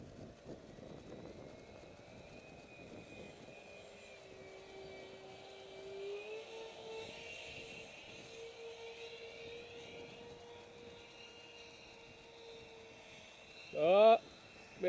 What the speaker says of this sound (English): Sounds like one of the EDFs is conking out.